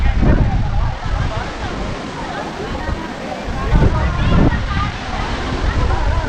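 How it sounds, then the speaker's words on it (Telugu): River water at the Musi River starting point pours steadily down a small waterfall, a continuous broadband rush mixed with wind gusts, with people talking over it. "కిందకి వెళ్తున్నాయి వాటర్"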